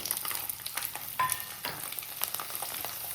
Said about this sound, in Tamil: கடுகு நல்லா பொரிஞ்சதும் உரிச்சு வச்சுருக்க பூண்டை சேர்த்துக்கலாம்.